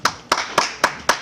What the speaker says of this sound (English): it started out as three guys clapping heavily for me being single